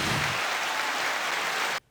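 Applause fills a room in a dense, sustained burst of clapping, then cuts off abruptly, leaving near silence.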